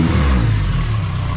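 A junkyard-rebuilt K24A2 engine swapped into a Honda CRX revs hard, a loud, close, raspy roar with a slight dip and rise in pitch through the short burst.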